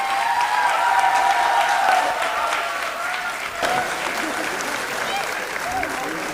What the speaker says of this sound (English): Can I request a resounding round of applause?